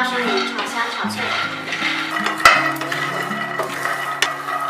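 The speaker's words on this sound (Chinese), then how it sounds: "花生米倒入无水无油的平底锅中， 装匣火将花生米炒香炒脆" Raw peanuts dry-roasted without water or oil in a flat pan over low heat, stirred with light scraping, rustling and occasional clinks, soft and close beneath background music and a talking voice.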